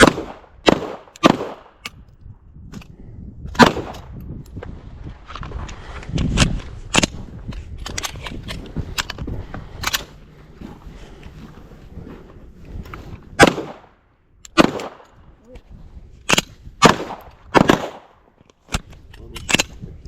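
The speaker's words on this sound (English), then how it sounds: "And then mag out. Good. Yep, and then fire when you're ready." Firearm shots at a shooting training class ring out as about a dozen sharp, loud reports, spaced irregularly in small clusters across the clip, with range noise between them and no talking.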